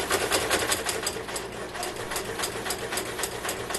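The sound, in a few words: sewing machine sewing down a mug rug seam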